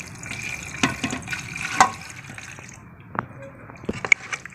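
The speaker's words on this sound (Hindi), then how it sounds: "अभी हमने गोश्त की जो गलाई की थी उसमें जो बाकी यखनी जो बची थी, करीब ये 1 गिलास के करीब है, ये इसमें शामिल कर देंगे।" About a glass of leftover beef stock is poured into Manchurian sauce in a pan, giving a soft, uneven splashing trickle broken by a few sharp clinks.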